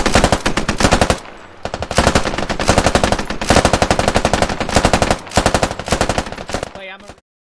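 Medium machine gun firing in the military shooter game Squad during a bridge assault: long, loud, sustained automatic bursts with brief pauses between them, hammering steadily for several seconds before cutting off abruptly.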